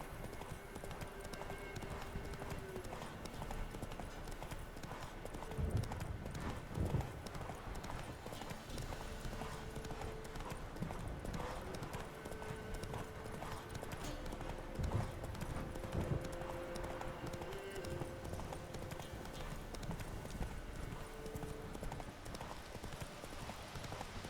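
The horse Roach's hooves clip-clop steadily in The Witcher 3 as she gallops along, a continuous rhythmic beat with a few heavier thuds, fairly quiet, with faint talk in the background.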